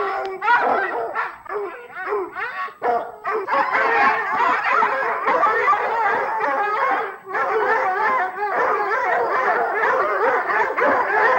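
Several dogs that have just been let loose bark, yip and howl almost without pause, loud and close in an excited overlapping chorus.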